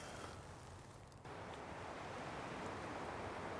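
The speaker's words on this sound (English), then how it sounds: "I hope this wind isn't picked up too much on the audio" Wind rushes steadily across an outdoor microphone in woodland, a continuous broadband roar that dips briefly then swells and holds, with no voices.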